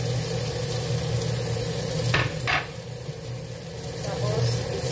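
Carrots and other vegetables sizzle steadily in a frying pan while being stirred, a continuous broad hiss with a couple of brief scraping accents midway, under a low background hum.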